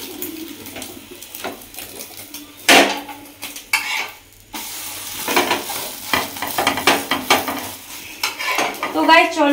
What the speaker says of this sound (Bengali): তো গাইস চলো আমি এখানে ডিম ভেজে নিচ্ছি, রাতে ডিনার হবে।